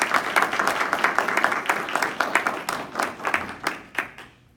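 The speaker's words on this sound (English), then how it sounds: "Please give them a round of applause." Audience applause at a military occupational therapy school graduation ceremony for the instructors and support staff, dense clapping filling the room and then thinning into scattered individual claps as it fades out.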